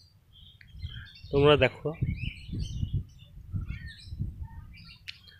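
Pigeons released to fly, giving brief chirps, coos and wing flutters around someone talking over them outdoors.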